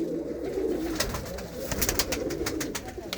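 Soft, low pigeon coos repeat steadily, with faint wing flutters and light clicks scattered over the second half. No voices.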